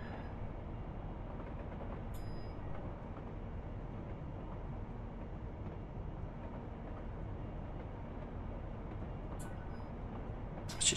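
Freight train on the Scottish East Coast line between Edinburgh and Dundee in Train Simulator 2019, a steady low rumble with rolling noise held at constant loudness throughout, no talking.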